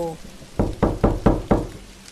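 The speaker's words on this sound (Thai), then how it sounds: "เธอได้ยินเสียงเคาะประตู" Five evenly spaced knocks on a door, loud and close, following a brief tonal sound at the start, with no voices.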